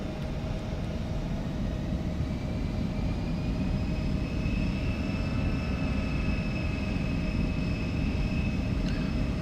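Embraer E175 jet engines spool at takeoff thrust in the X-Plane flight simulator, a steady loud roar with rising whining tones that holds throughout, with no talk.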